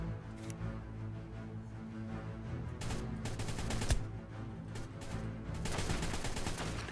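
Bursts of rapid gunfire from the game ARK: Scorched Earth crackle over a steady low rumble, coming in repeated volleys, moderately loud with no voices.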